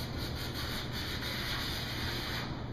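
A card scraper works across a wood surface for a woodworking pedestal extension table, making a steady, continuous rasping scrape with a slight rhythmic pulse, close and alone.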